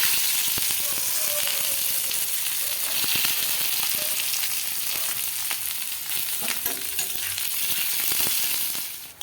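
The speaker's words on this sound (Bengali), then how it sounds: "এখানে সবজিগুলো ভেজে নিচ্ছি" Vegetables frying in a pan for pasta, a dense, continuous close-up sizzle with occasional clicks of stirring throughout, no speech.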